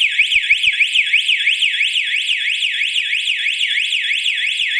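Outdoor solar-powered GSM alarm system with a built-in strobe siren (BE-G06) wails loudly and steadily, its rapidly sweeping up-and-down tone repeating without pause throughout, close and alone.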